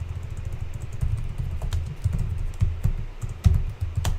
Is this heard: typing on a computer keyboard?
yes